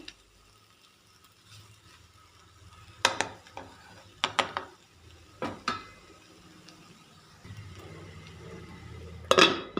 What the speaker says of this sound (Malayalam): നമുക്കൊന്ന് തുറന്നിട്ടൊന്ന് ഇളക്കി കൊടുക്കാം